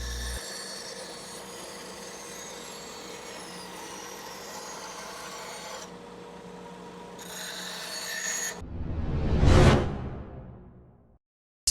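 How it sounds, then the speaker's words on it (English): A bandsaw cuts through wood with a steady rasping whir that changes in texture partway, then a loud whoosh as the blade spins down and fades out, with no talk. "Turn your bandsaw off, remove the wood, and continue on"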